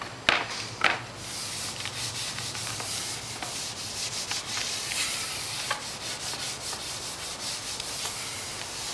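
A snowboard base is rubbed to polish off leftover wax, making continuous brisk scrubbing strokes at close range after a couple of light knocks at the start.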